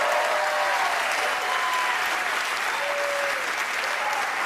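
A comedy club audience breaks into dense, steady applause at a live stand-up show, a loud continuous wash of clapping with faint voices mixed in, sustained without a break.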